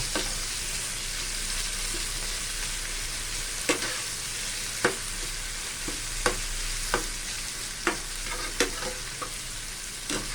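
Pork stir-frying in a pan for Thai nam prik ong, a steady sizzle with sharp spatula clacks against the pan at irregular intervals, close and alone without talk.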